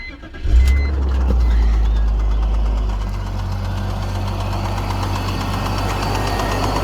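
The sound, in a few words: 2002 BMW 325i engine starting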